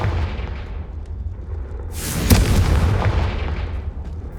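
A Confringo fire spell bursts in a Hogwarts Legacy game, a loud explosive boom with a sharp crack at its peak, rolling into a sustained roar and crackle that fades slowly, over low constant rumble.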